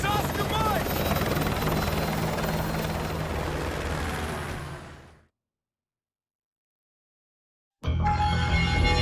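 A helicopter in the game Call of Duty Modern Warfare 2 Remastered roars loudly and continuously with a thick rotor drone, fading out to silence near the midpoint before another loud sound cuts in; voices speak over it.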